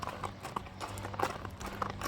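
Hooves of a small horse clip-clop at a walk, an uneven run of sharp taps over a low murmur of nearby people at a horse sale.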